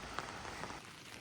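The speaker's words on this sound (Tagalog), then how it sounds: "Ayun na nga, lumakas ng ulan." Heavy rain pours at a riverside campsite in Tanay, Rizal, a dense steady hiss of drops pattering on surfaces close by, with no voices.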